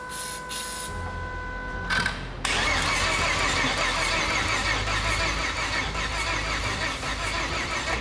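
A turbocharged Toyota Barra engine in an 80 Series Land Cruiser cranks briefly, then catches at about two and a half seconds and settles into a loud, steady, close-up idle that runs to the end with no talk.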